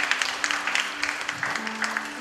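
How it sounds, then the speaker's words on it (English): A church congregation claps as an offering of praise, a steady patter of many hands with sharper accents standing out, moderately loud and continuous throughout. "Give a lot of clap offering"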